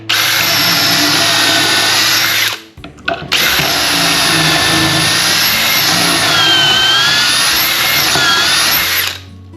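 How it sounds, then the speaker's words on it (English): A loud step drill fitted with a stop collar whines continuously while boring angled pocket holes through wood, pausing briefly once before resuming at steady high speed. "we're going to use our step drill and a stop collar and drill down through 2 of those holes"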